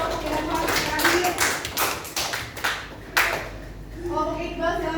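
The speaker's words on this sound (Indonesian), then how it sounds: "silakan tepuk lagi buat kelompok yang terakhir" An audience in a classroom clapping for a presentation group, with scattered, uneven claps and taps close by, fading into people talking toward the end.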